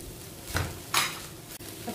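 Shredded cabbage goes into a hot pan and is stir-fried as spring roll filling, with two short scraping, sizzling bursts over a low steady kitchen background.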